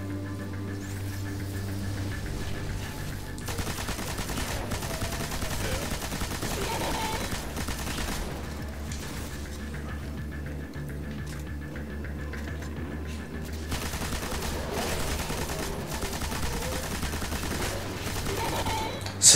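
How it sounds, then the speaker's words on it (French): Sustained heavy weapon fire rattles on in the shooter video game Destiny, set on Venus, a dense continuous burst of rapid shots with game effects, backed by a low steady drone. "Il n'y a rien de tel qu'une bonne arme lourde pour faire des dégâts."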